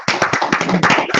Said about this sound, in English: and just give him a round of applause.